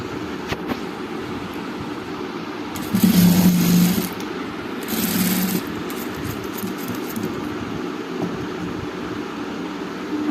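A sewing machine runs steadily while stitching the V-shaped neck of a nightie, with a continuous close mechanical whir that swells louder in two short bursts as the machine speeds up, and no voices.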